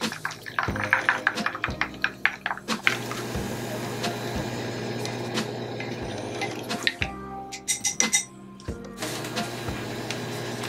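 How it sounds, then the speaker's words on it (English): Baking soda facial wash mixture being stirred in a container, giving a run of quick wet clinks and squishy taps, some close and sharp, with short pauses between bursts. "We're gonna give this a stir."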